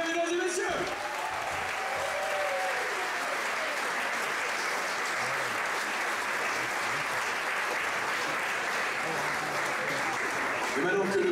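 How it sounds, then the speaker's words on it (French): A crowd at an evening show gives a long, sustained round of applause, a dense, even roar of clapping lasting over ten seconds with a few voices mixed in. "un tonnerre d'applaudissements s'il vous plaît, mesdames et messieurs"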